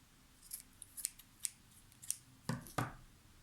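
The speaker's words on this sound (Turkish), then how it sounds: "Şimdi ucunu tutuyorum şöyle. Ucundaki fazlalıkları kesiyorum." Scissors snip off the excess yarn ends of a handmade crochet tassel, giving a series of light, close metallic snips at an irregular pace, ending in two firmer cuts, with no talking.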